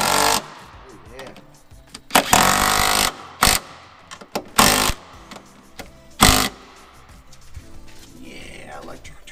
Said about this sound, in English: electric tool will make things so much easier